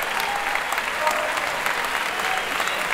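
Dense, sustained applause fills the room as an audience welcomes the host on stage at the opening of an Italian interview event, steady clapping from many hands without a break.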